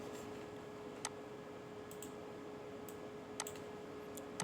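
Computer mouse clicks while working in SolidWorks software: a few sharp, isolated ticks spaced unevenly over a low, steady background hum, close but quiet, with no talking.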